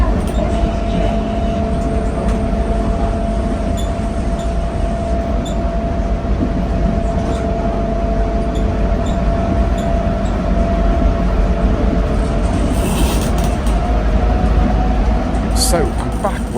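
An airport train ride on the KLIA Aerotrain, with a steady loud rumble, a constant motor whine and faint rattles throughout.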